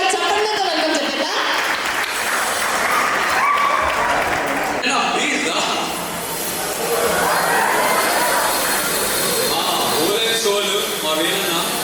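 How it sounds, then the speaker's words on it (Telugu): Audience applause welcoming guests onto the stage at the Vishwak movie pre-release event, a dense, loud, sustained clapping crowd filling the hall, with a voice speaking over it. "ఒకసారి గట్టిగా చప్పట్లతో వెల్కమ్ చెప్పేదా?"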